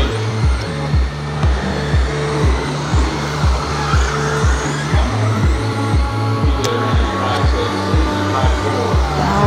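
RC cars racing on an indoor carpet oval track at Apex Raceway, a steady loud whine of several small electric motors droning continuously, with regular pulsing passes as the pack laps near, and light tire squeals.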